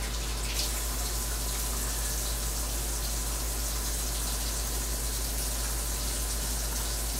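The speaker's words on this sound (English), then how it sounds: "Rinse our hands again." Steady, loud gush of tap water running without a break as hands are rinsed in a kitchen sink while preparing a Thanksgiving dinner, with no talking.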